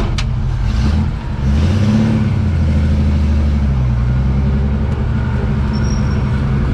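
A Holden car engine revs hard and then holds at a rumbling, fluctuating pitch, loud and close, with a brief dip early on.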